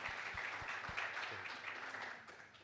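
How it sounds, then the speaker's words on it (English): A small panel audience in a hall offers a brief, faint round of applause, scattered close claps at the start giving way to soft, distant clapping. "Imminent gazetting deserves a round of applause."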